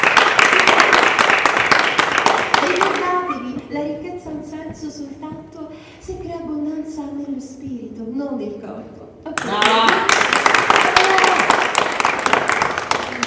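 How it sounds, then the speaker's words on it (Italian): Theatre audience applauding during a stage play, a dense burst of clapping at the start and again near the end, with a single voice speaking loudly in between. "Sentite gli applausi, signori!"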